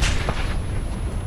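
Gunfire in a team shooter video game, a heavy booming shot with a low rumbling tail filling the whole short moment, loud and close.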